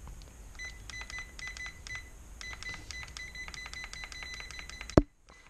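A digital clock gives rapid, high-pitched electronic beeps in quick repeated bursts, ending with a sharp click and then silence.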